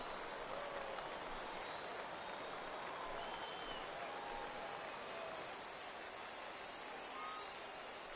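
Steady applause from a baseball stadium crowd rising for a full 3-2 count, a broad continuous wash of clapping and crowd noise lasting throughout with faint whistles on top.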